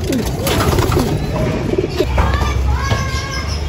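A ring-necked dove coos softly and repeatedly from a tree, mixed with other bird chirps and faint background activity.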